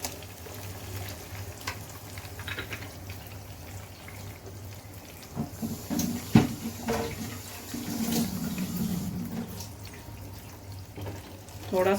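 Water poured into a pan of frying chicken for biryani, sizzling and bubbling steadily with splashes and clatters, while someone talks over it.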